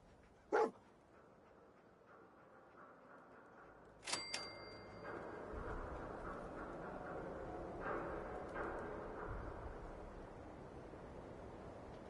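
Dogmeat, the Fallout 4 German shepherd companion, lets out a sharp bark early on, then a second bark after a few seconds of quiet, followed by a busy background hum of game ambience.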